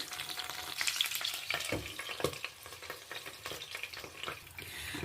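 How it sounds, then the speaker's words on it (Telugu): Eggplants sizzle and fry in hot oil in a pan for a Telugu-style vankaya vepudu, a steady close crackling hiss with occasional stirring clatter, no voices. "ఆయిల్ హీట్ అయిందండి ఇప్పుడు ఈ వంకాయలకి ఘాట్లు పెట్టుకున్నాం కదండి ఈ వంకాయలన్నీ ఇందులోకి వేసేద్దామండి"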